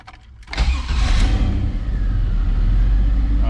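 A 1984 Pontiac Fiero wide-body with a supercharger fires up, its engine catching after a brief crank and then holding a loud, steady rev with strong low rumble, close by.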